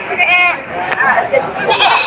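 Goats bleating close by at a goat market in Padre Garcia, Batangas, in quick, wavering cries, mixed with background chatter from people nearby.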